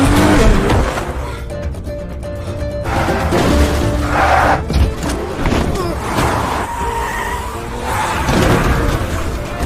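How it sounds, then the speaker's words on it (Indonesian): A car is driven hard in a scene from the zombie film Train to Busan Peninsula, its engine roaring continuously and loudly up close while tires squeal and the vehicle races along. "Terlihat jika Johnny sudah sangat mahir dalam mengendarai mobilnya."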